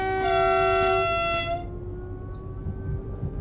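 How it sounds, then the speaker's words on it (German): Brief train horn blast from an Austrian ÖBB locomotive in the game Train Simulator 2020, a single loud tonal toot lasting about a second and a half before cutting off to low rumbling cab noise. "So, dann hupen wir mal kurz."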